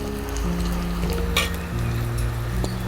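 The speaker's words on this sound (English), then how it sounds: "So the onion is almost pinkish, so a little more frying" Chopped onion frying in oil in a clay pot, giving a steady, close sizzle with a couple of brief stirring scrapes and a faint clink, with no talking.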